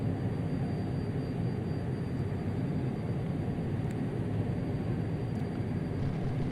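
Steady low engine rumble of an airliner idling on runway 27 in a Prepar3d home-cockpit flight simulator just before takeoff, a constant broadband drone with a faint high whine, no talk.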